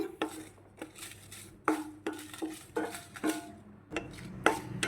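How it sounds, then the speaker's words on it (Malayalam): Red chillies dry-roasted in a pan without oil, heard as a steady series of scraping, clattering strokes of a utensil against the pan, close and fairly even in rhythm, with no talking. "ഇത് ഇങ്ങനെ എണ്ണ ഇല്ലാതെ തന്നെ വറുത്തെടുക്കേണ്ടതാണ്"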